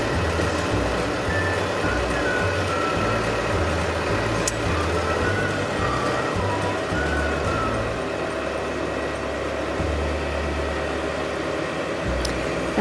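A farm tractor's engine idles steadily in a barn during barn cleaning, a continuous low rumble that runs alone throughout with no voices over it.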